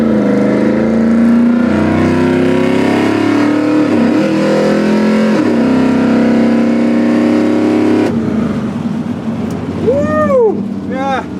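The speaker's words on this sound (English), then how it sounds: "Hit the gas pedal." A 1970 or 1971 Chevy C10 truck with an LS or FiTech 400ci engine accelerating hard in a drag race, loud sustained engine roar rising in pitch with a gear change, then people cheering near the end.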